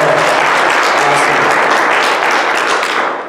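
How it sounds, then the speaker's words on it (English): A church congregation bursts into dense, loud applause, many hands clapping in a sustained roar that holds steady and only thins slightly at the very end. "Let's give them a hand."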